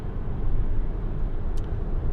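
Steady road and engine drone inside a 2015 Volkswagen Transporter Shuttle 2.0 TDI minibus cruising at 70 mph in seventh gear, a constant low rumble with no speech.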